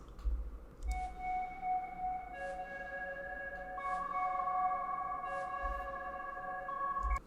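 Bright synthetic casino-style blip tones sustain and step between pitches, with short blips at the start and end, washed in reverb over a low rumbling bed.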